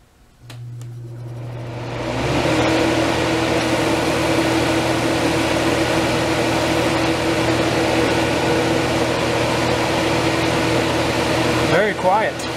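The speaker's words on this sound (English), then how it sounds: "Here's the first start of the compressor since I have owned it." A Crest (Fedders) Carry Cool portable air conditioner's compressor starts up with a low hum, then settles into a loud, steady drone with fan noise, heard up close and alone.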